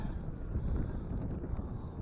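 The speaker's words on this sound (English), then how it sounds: "Gust of wind almost took it in the hole." Wind gusting across a frozen lake during ice fishing, a steady low buffeting roar against the microphone that holds for a couple of seconds with no voices.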